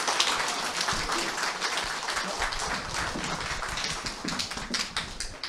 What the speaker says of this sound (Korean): 다시 한번 큰 박수 주시기 바랍니다